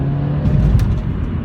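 Mercedes-Benz CLA 250 Shooting Brake in sports mode accelerating hard after kickdown from fourth gear, a steady close cabin engine drone with a fuller surge in the middle.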